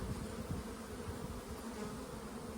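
Honeybees crawl on a hive frame held over an open hive, giving a steady, dense buzzing hum that stays even throughout, close to the microphone with no talking.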